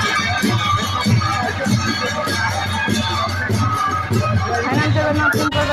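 A dense crowd hums steadily at the Jagannath Bahuda Rath Yatra festival, a continuous babble of many voices with no single sound standing out.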